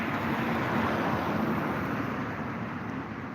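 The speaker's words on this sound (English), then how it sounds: "And then here comes a car." A car passes by, a broad steady rush of road noise holding loud and even throughout with no speech.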